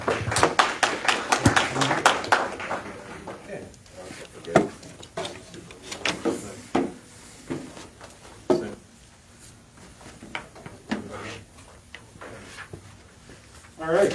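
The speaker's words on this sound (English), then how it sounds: "let's give him a round of applause" Audience at a public input session giving scattered applause, a cluster of brisk claps at first that thins into sparse, isolated claps and taps, fairly faint in a room.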